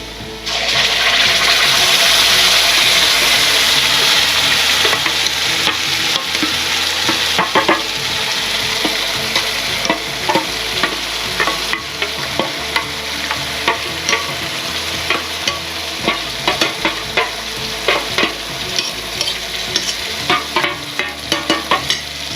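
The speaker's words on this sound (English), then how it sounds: "Now I'm just going to give it a good stir fry" Masala stir-fried in a pan for a South Indian chicken curry gives a loud, steady sizzle, broken by repeated scraping and clattering of the spoon over about twenty seconds.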